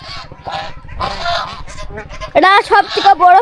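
Geese at a large village pond give several loud, harsh honks close by, strongest toward the end, with voices talking underneath and between the calls.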